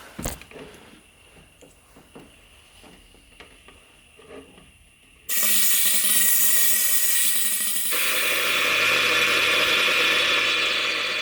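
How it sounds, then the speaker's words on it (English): An air evac pump starts up with a sudden loud, steady hiss and hum while drawing washer fluid from the reservoir of a 2007 Toyota Prius, after a stretch of quieter handling noises, and the tone shifts partway through. "So I'm going to suck out that fluid. You could use a turkey baster. I'm going to use my air evac pump."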